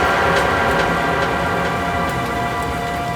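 Steady, dense rain falls close by at night, a continuous hiss with scattered drop ticks, loud and unbroken with no voices.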